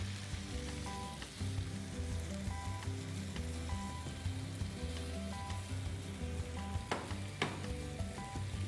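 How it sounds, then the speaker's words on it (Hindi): Paneer cubes added to a tomato masala in a hot pan sizzle and fry steadily, with stirring scrapes and occasional louder pops, close and continuous. "अब इसमें मैं डालूंगी पनीर"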